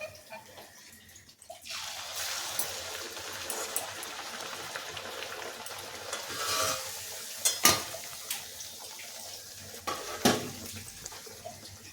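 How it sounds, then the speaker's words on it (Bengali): Sabudana luchi frying one at a time in hot white oil, a continuous bubbling sizzle with occasional louder spatters and utensil knocks, close and moderately quiet. "এখন একটা একটা করে লুচি ভেজে নিচ্ছি।"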